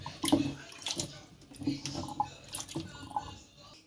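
Water drains from washed arrowroot through a strainer into a sink, heard as faint splashing, trickling and irregular drips at close range, with no speech.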